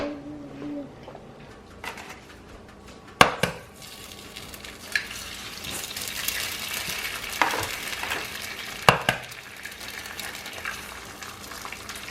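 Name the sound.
eggs frying in a pan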